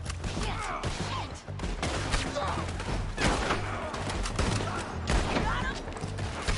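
Repeated gunfire and bursts of shots in the Western video game Red Dead, loud and dense across the clip, mixed with game ambience and thuds.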